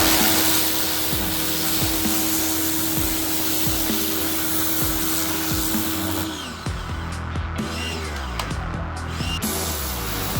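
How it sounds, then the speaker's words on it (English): Pressure washer spraying debris off a Bolens 20-inch 450 series lawn mower with a 125cc Briggs & Stratton engine, a loud continuous engine-driven hiss with rhythmic pulsing throbs, the tone shifting as the spray moves. "we're going to be hitting the pressure washer all over the unit so we have the cleanest we can get it"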